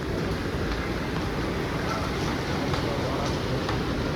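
Argo Muria passenger train standing at a station platform, a steady low rumble and broad hiss of idling train and station noise with a voice faintly present.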